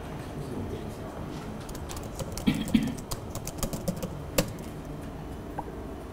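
Keys tapped on a computer keyboard while setting up a Messenger chatbot, soft irregular clicks scattered through the middle and end, faint and close over a quiet room hum.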